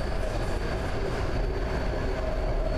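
Subway metro train riding, a steady loud rumble and rolling roar from inside the carriage, continuous with no talk.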